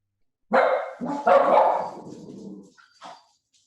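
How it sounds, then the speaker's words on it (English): A dog barks a few times close by, loud sharp barks followed by a short trailing yelp, no talking. "Sorry about the dogs."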